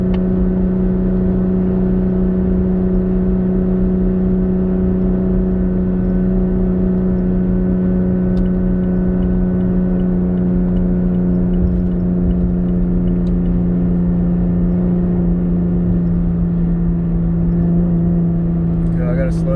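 Engine of a Magnuson supercharged 2018 Toyota Tacoma towing a load in third gear at highway speed, a loud, steady droning hum with constant whir, holding pitch with a slight drop near the end while someone talks over it.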